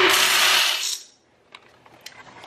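Dry macaroni pours into an Instant Pot pressure cooker as a loud rattling rush of hard pasta that fades after about a second, followed by a few scattered light clicks and taps.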